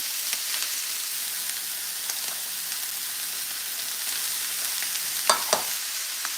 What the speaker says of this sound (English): So let's start putting in some celery.